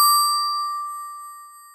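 A Christmas bells instrument in FL Studio strikes a single bright, ringing note that rings clearly and fades steadily over about two seconds, alone with no talking.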